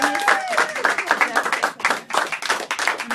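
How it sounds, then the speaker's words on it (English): Big round of applause at the Fragile Storm party in 2016: a crowd claps in dense, uneven bursts, loud and close, with voices calling out over the clapping at the start. "So big round of applause."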